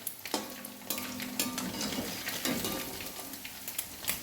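Mackerel pickle frying in hot oil while being stirred, a steady close sizzle with scraping spoon strokes and a faint tonal hum partway through, no voices.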